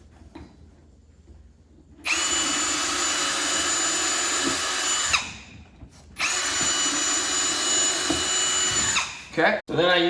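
A power drill drives 2-inch screws into the handles of a DIY insulated wooden beehive, whirring loudly in two long bursts, a few seconds each, with a short pause between them and a quiet stretch before the first.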